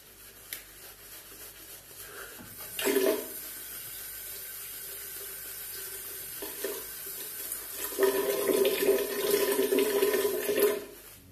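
Tap water runs from a faucet in two bursts, a short gush followed by a longer, louder steady stream, with quiet room tone between.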